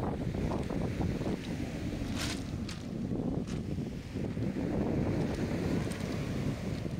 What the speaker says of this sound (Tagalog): Sir, ganyan talaga kalakas ang alon yan?